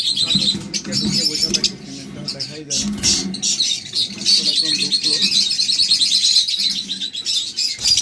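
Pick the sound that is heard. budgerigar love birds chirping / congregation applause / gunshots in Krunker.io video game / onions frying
budgerigar love birds chirping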